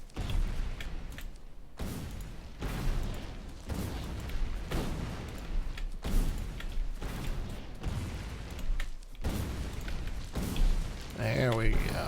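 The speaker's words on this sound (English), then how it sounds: "I got 34 grenades, which is enough to clear these trees out." Grenades thrown in Factorio burst one after another while clearing trees, a steady series of muffled booms arriving roughly every second, with a voice talking over them.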